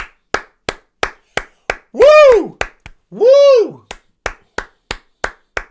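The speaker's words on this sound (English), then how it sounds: "Round of applause." A single person clapping in fast, evenly spaced claps, close and loud, broken by two long whooping cheers from the same voice.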